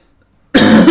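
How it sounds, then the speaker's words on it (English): A single loud, close cough bursts out abruptly after half a second of silence and lasts to the end. "I'm really about to cough my guts out here"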